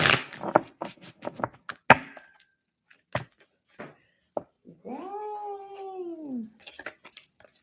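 A cat lets out a long, drawn meow close by, preceded by scattered knocks and clicks in a quiet room, with another short bout of tapping afterward.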